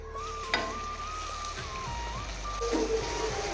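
Two cubed tomatoes tipped into browned onions in a pan while cooking beef kaleji masala give a steady sizzle, with a loud, high electronic beeping tone running over the frying throughout.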